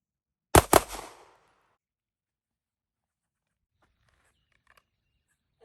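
Two quick, loud pistol shots from a Canik METE MC9 at a shooting range, fired back to back with a short decay, followed by near silence and faint handling noise.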